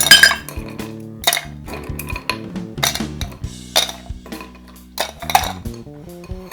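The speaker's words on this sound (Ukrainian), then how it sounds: "Беремо наш шейкер, додаємо лід." Ice going into a metal cocktail shaker for a Penicillin cocktail, a series of sharp clinks and rattling knocks at irregular intervals, close and crisp, with no talking.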